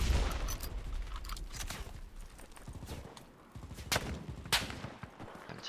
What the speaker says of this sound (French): Ça me tire dessus, je vois pas d'où.